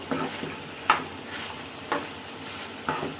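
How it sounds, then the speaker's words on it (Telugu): Chicken dal frying in a pan, a steady sizzle with occasional stirring scrapes and ticks roughly once a second, close and alone. "ఇదిగో బాగా అంటే బాగా వేగింది కదా ఇంకా వేగాలి"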